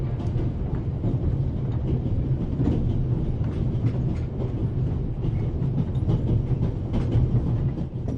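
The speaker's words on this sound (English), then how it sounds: "you're on a train bound for Switzerland" A passenger train rolls along its rails toward Switzerland in The Raven Remastered, a steady loud rumble with faint clickety-clack and no voices.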